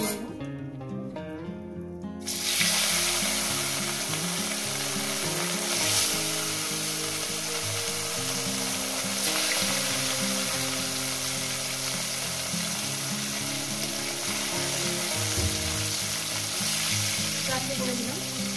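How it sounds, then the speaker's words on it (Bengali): Rohu fish pieces hit salted hot oil and fry with a loud, steady sizzle that swells into a dense crackle and continues unbroken. "মাছগুলো এক এক করে দিয়ে দেবো।"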